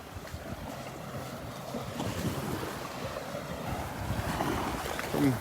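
Small ocean waves roll onto the beach at Delnor-Wiggins on a grey, slightly rough morning: a faint, continuous wash of surf with gentle swells, mixed with some wind noise.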